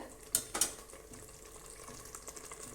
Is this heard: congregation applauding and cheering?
no